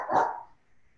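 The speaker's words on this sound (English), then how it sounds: "That's somebody's dog barking." A dog gives a single loud, sharp bark that dies away fast, alone and without talk, coming through on an online meeting call.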